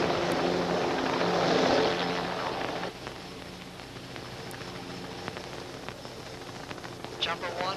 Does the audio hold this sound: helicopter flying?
yes